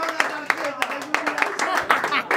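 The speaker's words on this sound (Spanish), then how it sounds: "Un aplauso." A small audience claps in short, uneven bursts, close and fairly loud, while someone talks over the clapping.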